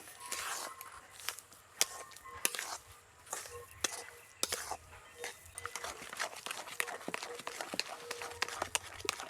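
Amla paste cooked with sugar is stirred in a pan over low heat, with irregular scraping clicks and taps of the spoon against the pan over a faint low simmer.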